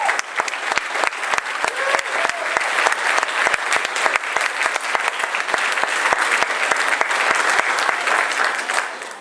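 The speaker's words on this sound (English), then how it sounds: "So if you guys want to come to the front of the stage, we'll go ahead and clap for it." Audience applause fills a school auditorium at a spring music concert for student performers in New London, Iowa, steady dense clapping throughout, loud and close, with faint voices underneath.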